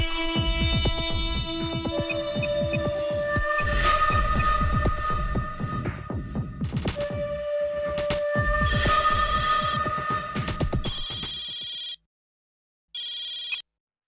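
A phone rings in a Tamil TV serial scene, a repeating electronic ringtone pulsing steadily over a swelling dramatic music score, ending in short bursts separated by silence.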